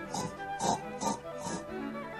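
A voice mimics a fat pig's oinking with about four rhythmic, close nasal grunts in quick succession, heard alone without other talk.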